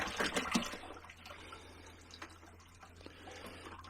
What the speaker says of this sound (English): I'm just going to add a little bit more water to this, so we've got plenty in there